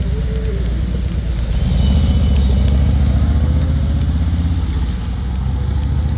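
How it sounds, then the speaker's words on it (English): Motorcycles passing on a road near Salem's historic district, a loud, steady engine rumble close by that swells slightly in the middle and holds throughout. "Motorcycles."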